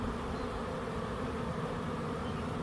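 A dense, even drone of many honeybees hums near the hands holding a clump of the swarm at a backyard swarm trap. The sound is unbroken and fairly loud, and nobody speaks.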